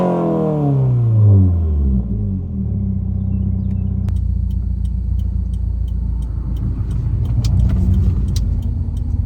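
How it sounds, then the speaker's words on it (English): A Subaru WRX flat-four engine idles and revs, a deep steady rumble settling after an initial swell, with faint clinks and ticks near the end, loud and close. "I'm sure you guys want to hear how it sounds, so I'm going to throw in a sound clip right now"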